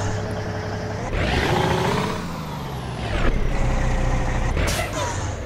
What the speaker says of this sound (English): Trail brakes are working good.